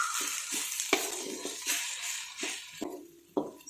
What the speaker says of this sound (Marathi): त्याच्यासाठी आपण हे मंद गॅसवरती छान परतून घेऊयात